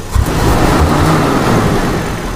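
A Toyota Kijang engine revs steadily and loudly while its distributor points are tuned, holding a sustained mid-pitched roar throughout.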